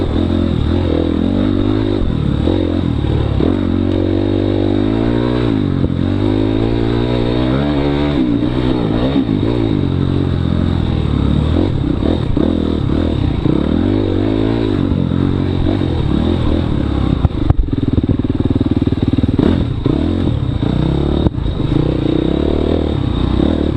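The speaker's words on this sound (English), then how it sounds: "I was twisting the throttle a little bit to get through the grass track section" Racing motorcycle lapping a grass track during an NMA round at River City, its engine revving and shifting continuously and loudly up close, with clattering and scraping over rough ground.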